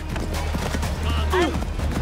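A horse at full gallop in Assassin's Creed Mirage, drumming hooves with a brief whinny-like squeal near the end, mixed with voices and other game sounds.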